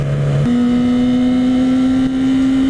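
A 2014 Yamaha R6 sport bike engine under way on a ride, a loud, close, steady high-revving drone that shifts up to a higher pitch early on and then holds smooth, with wind rushing around it.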